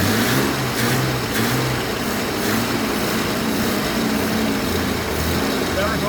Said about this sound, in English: How smooth is that engine?